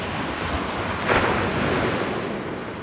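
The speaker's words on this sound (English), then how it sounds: "the waves, the sound of the wave is just amazing" Ocean waves surge and wash continuously with wind buffeting the microphone, and one louder breaking crash comes about midway through. The whole stretch is loud and close.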